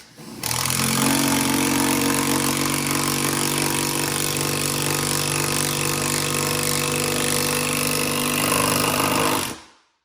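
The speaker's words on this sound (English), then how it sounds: "it's also kicking into impact mode, which is what's making it so loud" A RIDGID R8224K power tool runs loudly in impact mode, a continuous harsh rattling hammer with a steady droning whine, close up, sustained for nearly ten seconds before cutting off abruptly.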